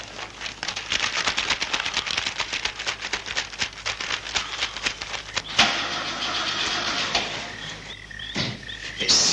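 Car engine repeatedly cranking without catching, a rapid rhythmic churning that sputters and stalls, with brief mechanical clunks near the end.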